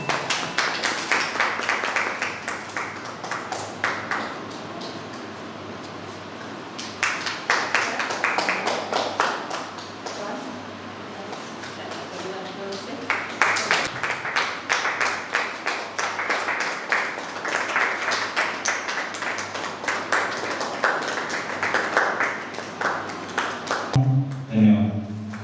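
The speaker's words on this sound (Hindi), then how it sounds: "तालियां।" An audience at a farewell ceremony applauds in several long bursts of dense clapping, separated by brief quieter gaps, with a voice speaking between them.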